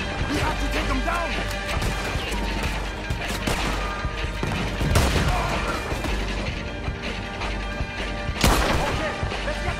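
Sniper gunfire from a tower in a video game, with loud shots and crashing impacts buried in a dense mix of music and action noise, and a voice talking over it.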